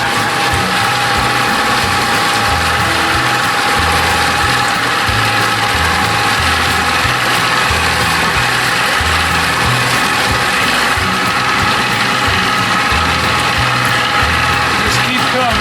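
A 30 hp Evinrude outboard motor, newly converted to UFI, runs loud and close with a rapid, rhythmic mechanical chatter and low throbbing pulses. The sound stays continuous throughout.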